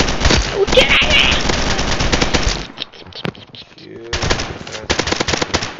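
Rapid automatic gunfire in a video game crackles loudly in dense bursts, drops into a brief sparser lull of single shots, then resumes in heavy sustained volleys.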